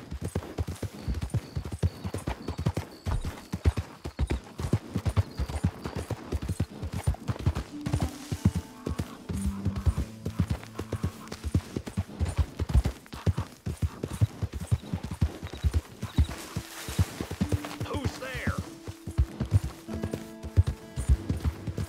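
A horse's hooves clip-clop in a steady rhythm as it is ridden in Red Dead Redemption 2, continuous and fairly close, with faint game ambience and occasional low tones beneath.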